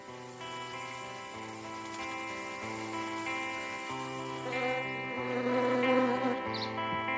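Several flies buzz close around a carrion-scented flower, their droning wings overlapping in steady, wavering hums that swell slightly toward the end, with no voices.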